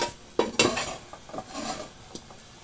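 A frying pan is handled in a kitchen while oil is poured in for cottage cheese fritters: a couple of sharp metallic clanks, then softer scraping and pouring sounds, close by and with no voices.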